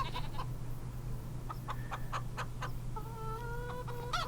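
Chickens on a homestead cluck and call in short, scattered bursts over a constant low hum, faint and somewhat distant, with a drawn-out call near the end.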